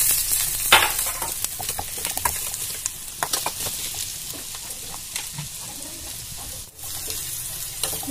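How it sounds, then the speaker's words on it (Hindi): Chillies and onion frying in hot oil in a pan, giving a steady close sizzle and crackle throughout, broken by occasional stirring scrapes and clinks. "पहले हम मिर्चा को फ्राई कर लेंगे। फिर इसमें हम प्याज डाल देंगे।"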